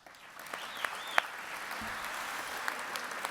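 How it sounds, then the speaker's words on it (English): Applause at the Football League Awards as a club hero is announced, a sustained, moderately distant clapping with a few sharp louder claps and whistle-like tones over it. "before you go too big on the round of applause"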